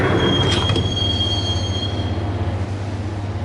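A subway train in the Max Payne video game rolls into Roscoe Street Station, loud and close, with a steady low rumble, a long high wheel squeal and a few brief metallic clanks early on.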